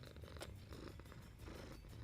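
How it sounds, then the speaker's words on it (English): A contented cat purring close up, a soft continuous low rumble with gentle rhythmic pulses and no talking. "Listen to him purring."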